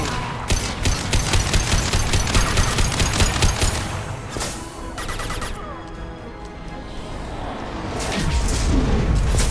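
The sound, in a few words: explosion in video game Mass Effect 2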